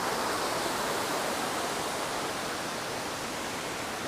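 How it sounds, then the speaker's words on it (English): A waterfall on a mountain nature walk roars as a steady, broadband rush of falling water, loud, close and continuous throughout with no voices. "just to come and look at this waterfall and enjoy the walk, enjoy the nature"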